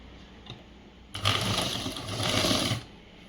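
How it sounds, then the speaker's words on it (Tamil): Sewing machine stitching the folded hem of a boys' government school uniform shirt, running steadily for about a second and a half with a brief pause, close and fairly loud, with no talk over it. "இப்போ அடி மடித்து தைச்சிடலாம்"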